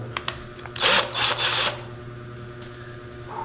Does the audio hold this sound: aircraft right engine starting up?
no